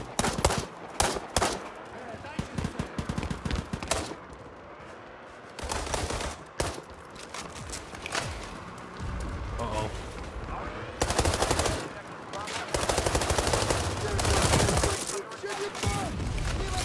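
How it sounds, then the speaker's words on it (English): Dense bursts of automatic G36 rifle fire in the video game World War 3 rattle loudly and repeatedly, with short pauses between volleys and longer sustained strings of shots toward the end. "Was my teammate shooting me from the window?"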